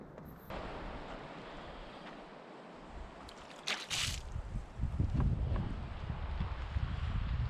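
Strong east wind gusts across a wilderness lake on a Quetico canoe trip, roaring in the microphone with wave wash, rising steadily louder and rougher over the second half.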